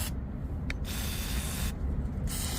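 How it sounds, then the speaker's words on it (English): WD-40 sprayed from an aerosol can while working on a 1956 Chevy, a steady close hiss running nearly throughout, broken by two short pauses between bursts. "You want some WD-40?"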